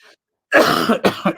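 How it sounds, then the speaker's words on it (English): A short burst of close, harsh coughing from a person with a cold, one long rasping cough followed by two quicker ones. "You'll hear me cold coughing here"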